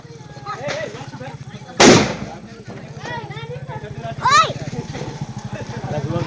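A firecracker bursts during village Diwali celebrations, one sharp loud blast near the two-second mark and a second, smaller pop later, set against a steady motor hum, with people talking throughout.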